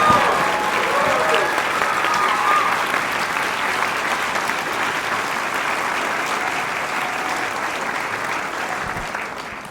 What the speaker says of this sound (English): please stand for some applause